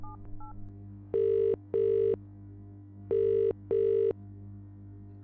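A telephone rings in two paired bursts of electronic tones, each burst a pair of short steady rings, loud and close against a low background hum with brief beeps at the start.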